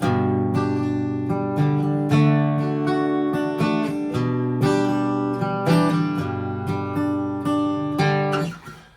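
Steady acoustic guitar strumming in a repeating pattern, alternating low bass strokes with brighter treble and middle strums, played close and alone, ending in a brief scrape.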